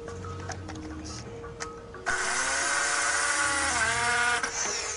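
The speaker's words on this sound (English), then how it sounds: "The drill seems real" A power drill used in a stunt whirs into life after a quiet start, then holds a loud, steady, high whine with a slight pitch wobble.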